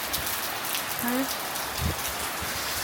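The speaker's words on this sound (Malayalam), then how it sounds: "ഇപ്പോൾ നോക്കിയാൽ നല്ല മഴ, നല്ല കാറ്റും മഴയാണ്." Heavy rain falls with wind, a steady wash of patter at moderate distance, with a brief faint vocal sound and a low thump partway through.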